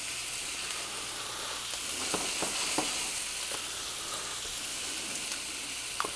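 Walleye fillets fry in a hot pan with a steady, close sizzle and a few brief crackles, with no talking.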